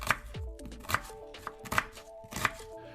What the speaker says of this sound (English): She spills out the grocery bag and starts chopping the onions and peppers.